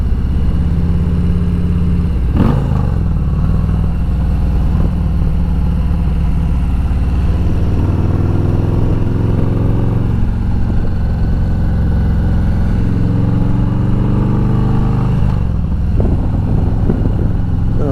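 A Harley touring motorcycle engine running through zombie baffles at steady cruising revs, a deep continuous rumble with brief rises in pitch, close and loud throughout.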